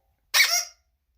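A small dog lets out one short, sharp, high-pitched bark, close by in an otherwise quiet room.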